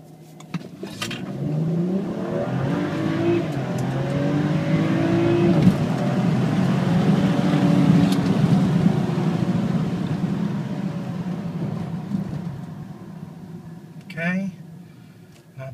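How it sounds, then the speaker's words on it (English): A 2013 BMW X3 35i M Sport pulls hard from a standstill toward 60 mph on a wet road, its engine note rising through gear changes at steady loudness, with faint hiss underneath and a voice briefly present near the end. "2013 X3 35i M Sport 0 to 60."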